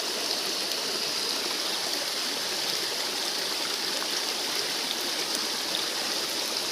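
Continuous rushing of a flowing stream, an even, full wash of water with no voices, holding steady throughout.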